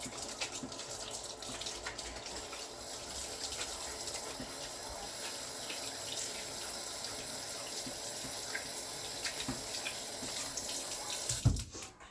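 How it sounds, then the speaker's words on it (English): A kitchen tap runs steadily for hand washing, a continuous close splashing hiss with small splatters and a brief louder gush and clunk at the end as it shuts off. "Wash my hands really quick."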